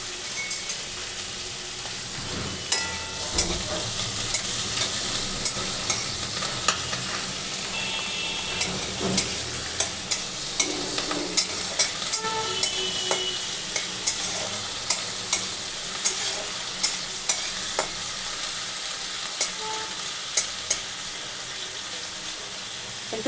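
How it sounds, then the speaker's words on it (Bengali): Prawns fry in oil in a pan for a jackfruit-and-prawn curry, giving a steady close sizzle with regular sharp taps of a spatula against the pan throughout, and no talking. "তো আমি একটু চিংড়ি মাছটাকে ভেজে নিচ্ছি।"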